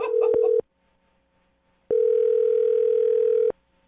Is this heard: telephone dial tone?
yes